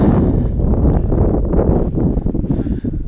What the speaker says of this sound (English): the wind is kicking up